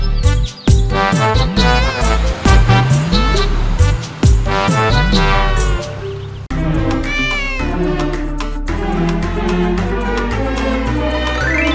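A cartoon cat meows in a kids' school bus rhyme, its cries loud and repeated over bright, busy backing music throughout.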